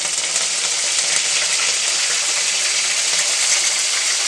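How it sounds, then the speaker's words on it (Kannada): Curry leaves, mustard seeds and cumin sizzle and spit in hot oil for a tempering, a dense, steady crackling hiss that stays loud and even throughout with no voices. "ಸಾಸಿವೆ ಮತ್ತು ಜೀರಿಗೆ ಚಟಪಟ ಅಂತ ಸಿಡಿದ ಮೇಲೆ ಒಂದು ಎರಡು ಕಡ್ಡಿ ಕರಿಬೇವು ತೊಗೊಂಡಿದ್ದೆ ಹಾಕ್ತಾ ಇದ್ದೀನಿ"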